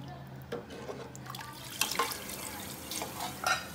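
Water is poured into a pot of Indian kadhi during cooking, giving splashy trickles and drips with a few louder gushes, close by and fairly quiet over a low room hum.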